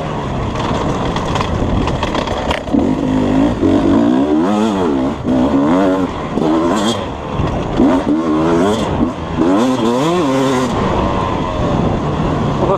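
A 2020 Beta 250 two-stroke dirt bike ridden hard, its crackling engine revving up and down repeatedly in loud, close bursts with rapid gear-change swoops, no speech.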